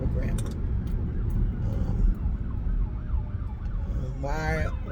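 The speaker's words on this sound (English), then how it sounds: "You hear the ambulance and the fire trucks." Ambulance siren passing along the road, heard from inside a car as a wavering yelp over heavy road and engine rumble, moderately distant, with talk nearby.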